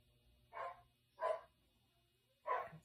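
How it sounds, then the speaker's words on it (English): Three separate dog barks ring out at an even pace, moderately faint and somewhat distant, with quiet background hum between them. "Of course the dogs are barking now"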